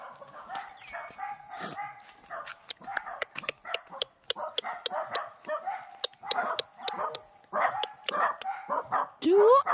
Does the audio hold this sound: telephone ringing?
no